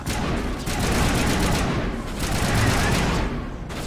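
Dense, continuous gunfire in the Mass Effect Legendary Edition video game, with rapid overlapping shots and no break for the whole few seconds, loud and near.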